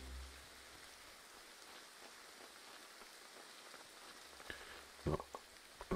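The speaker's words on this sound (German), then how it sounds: "Es regnet wie Sau." Heavy rain in the game Graveyard Keeper, a soft continuous hiss of drizzle with a few sharper drips and splashes near the end, faint and without talk.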